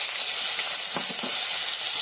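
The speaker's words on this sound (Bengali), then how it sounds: "এবার ভালো করে চিংড়ি মাছ ভেজে নেব" Shrimp sizzle in mustard oil, a close, steady frying hiss with a brief soft stir in the middle.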